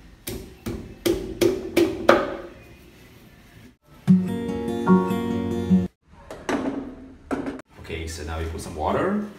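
A knife chops and hacks at cassava roots in a series of sharp, close impacts, several quick strikes at the start, then pauses with scraping and clattering between cuts.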